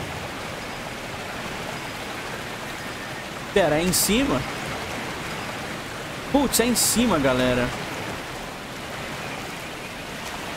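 Steady, broad rushing water from a waterfall in Dragon Age: Inquisition fills the scene at constant loudness, while a voice cuts in twice, briefly, over the roar.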